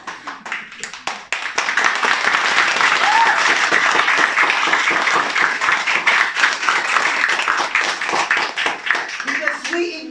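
An audience at a leadership training session bursts into loud, dense applause that holds steady for most of the stretch, after a brief voice at the start.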